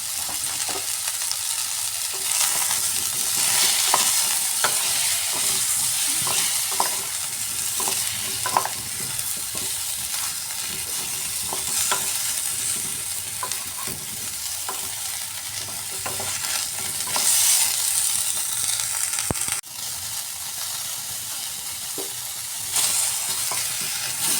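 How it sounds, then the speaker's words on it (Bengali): Cauliflower and potatoes sizzle and fry steadily in a pan, with occasional scraping and stirring clatter over the constant hiss. "ফুলকপি একটু ভাজা ভাজা করে নিচ্ছি"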